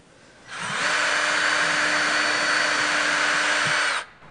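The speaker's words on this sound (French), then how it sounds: "Il faut donc percer le fond des grandes caisses avec des trous de 6 mm espacés de 2 cm" A power drill bores a 6 mm hole through the bottom of a large plastic crate, spinning up in one steady, loud whine for about three and a half seconds before stopping.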